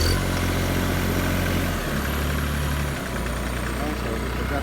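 A 40hp Hymach remote control mulcher engine turns over and settles into a steady idle, its low drone continuing with a shift in pitch partway through.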